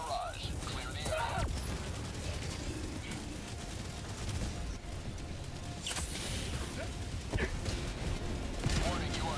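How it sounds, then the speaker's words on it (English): An orbital barrage fires in Helldivers 2, dense continuous rumbling explosions and gunfire crashing throughout, with a sharp blast near the middle, under faint game voice lines. "Firing orbital barrage. Clear the area."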